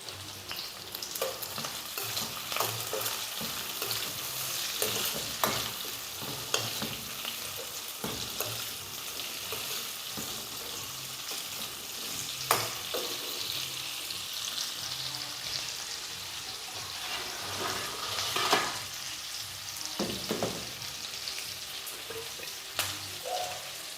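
Sliced onions frying with a pinch of salt in a pan, a continuous sizzle broken by scraping stirring strokes and occasional clicks, moderately close and heard without talk.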